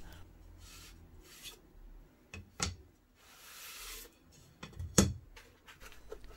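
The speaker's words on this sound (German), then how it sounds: "Bevor der Ton trocknen kann, muss ich nur noch die Leisten entfernen." Wooden strips being pulled away from wet clay: soft scraping and rubbing with a few sharp knocks and clacks, close and fairly quiet, with no talk.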